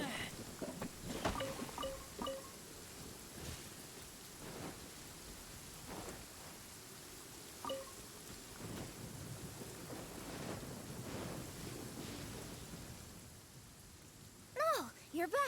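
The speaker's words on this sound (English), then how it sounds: "The sound of the rain is it actually sounds pretty good." Rain falls in the video game Genshin Impact as a steady, soft patter, with low thunder rumbling in the background and a few brief game sounds near the end.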